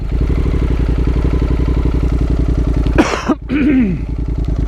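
A couple of harsh, close coughs and a throat-clearing from a rider with a cold break through the steady, rhythmic putter of an idling Honda NC750X motorcycle engine.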